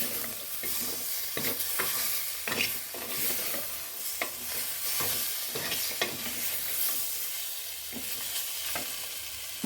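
Ripe tomatoes fry in a pan for tomato gravy in a village kitchen, giving a soft, steady sizzle broken by repeated sharp scraping and stirring clicks, moderately quiet and with no talking.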